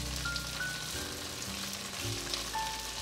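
Vegan fried eggs made from tofu and carrot sizzle in hot oil in a pan over medium-low heat, a steady soft frying hiss running evenly throughout with faint tonal background sounds.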